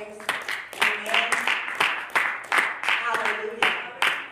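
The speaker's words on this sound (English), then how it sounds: "give God a hand clap of praise" A church congregation claps hands in praise during worship, a steady rhythmic beat of about two claps per second with voices audible underneath.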